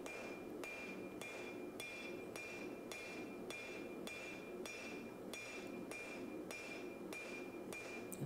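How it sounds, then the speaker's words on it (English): Hammer forging the distal taper of a canister Damascus knife blade of 1080 steel and nickel powder, about fourteen sharp, ringing metal blows at a steady pace over constant forge roar, with no talking. "this is sort of forging in that distal taper"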